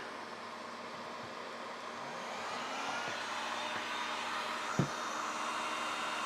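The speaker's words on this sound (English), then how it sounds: "So I've got another heat gun here. Let's plug this in and see what we can get." A heat gun powered from a Zero-Breeze 2200 watt power station blows with a steady, loud, broadband airflow roar that holds even throughout, with one brief knock near the end.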